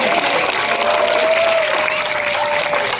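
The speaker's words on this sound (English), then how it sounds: "Let's give him a round of applause." Audience applause at a seal show at Taronga Zoo Sydney, a steady wash of clapping from a crowd with a faint tonal squeal running through it.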